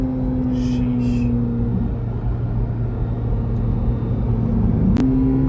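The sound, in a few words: Chevrolet Corvette C8 Z06 accelerating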